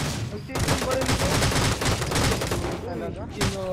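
Rapid gunfire rattles almost nonstop during a Rules of Survival match, loud and close, with a few brief gaps, while a player's voice cuts in near the end.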